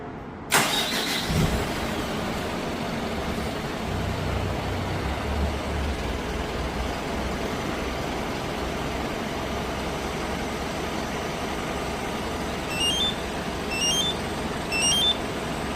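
A car engine cranks and catches on command from an RH500 remote starter, then settles into a steady, close idle rumble, with faint electronic beeps chirping near the end.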